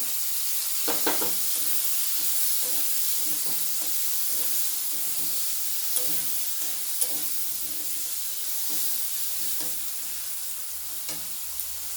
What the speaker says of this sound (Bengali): এগুলো একটু ভালো করে কষিয়ে নেব